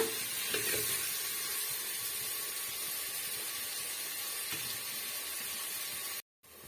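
Onions with green chillies frying in a pan for a roadside-style chicken gravy, giving a steady, quiet sizzle with faint stirring scrapes throughout, cutting out briefly near the end.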